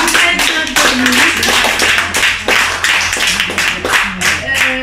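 A storytelling show audience applauds loudly and densely, many hands clapping at once in a steady wash of sound that carries for several seconds without a break.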